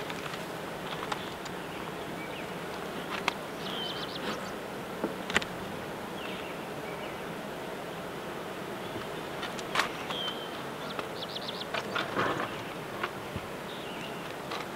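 A dense, steady buzz of many honeybees inside a strong hive fills the air, with faint clicks and taps scattered over the continuous drone.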